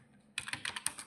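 Brief burst of typing on a computer keyboard while entering account details into Tally ERP 9 accounting software, a quick run of close, crisp key clicks after a short near-silent pause.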